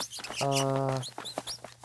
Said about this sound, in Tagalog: Yan na naman yung mga manok, guys. Napakaingay.